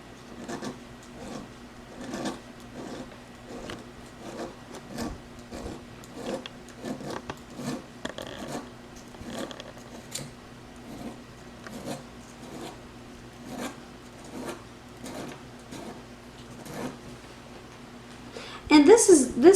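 A small file or sharpening tool rasps against the blades of jeweler flush cutters in steady, evenly spaced strokes, close up and moderately loud, with a voice breaking in briefly near the end.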